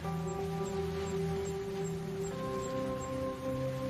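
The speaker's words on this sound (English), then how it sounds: "The rain's come in." Steady rain falls on a tropical desert island, a dense continuous hiss close by with sustained tonal hum layered through it and no talking.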